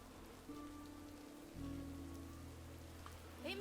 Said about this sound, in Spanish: Llueve en el juego, sí, sí.